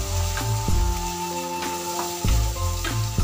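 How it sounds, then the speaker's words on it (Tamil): Onions sautéing in a pan for chicken biryani, a steady close sizzle with rhythmic stirring scrapes and low thumps of the spoon repeating every half second or so. "நல்லா இந்த வெங்காயம் வந்து ஒரு ப்ரௌன் கலராக வர மட்டும் நல்லா வதக்குங்க"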